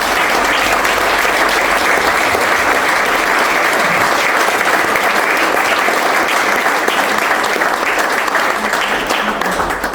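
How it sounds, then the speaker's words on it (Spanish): Audience applause at a book presentation for the Asturian translation of Don Quixote, a dense, steady clapping that stays loud and even for the full stretch without letting up. "quiero pedir un aplauso para Pedro"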